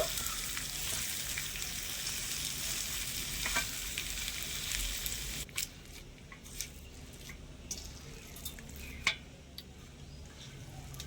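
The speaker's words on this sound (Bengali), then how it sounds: "এবারে এই আলুটাও একটু ভালোভাবে নেড়ে ছেড়ে মিশিয়ে নেব" Mashed potato filling frying in a pan makes a loud steady sizzle at first, then quieter hissing with scattered scraping stirs and a few sharp spoon clacks against the pan, no speech.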